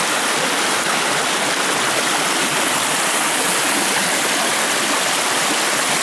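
Creek water flowing under a bridge at Bullocks Creek, a steady, loud rushing wash heard close and uninterrupted with no voices.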